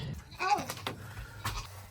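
Goats bleat a couple of times at close range while a person talks to them during feeding.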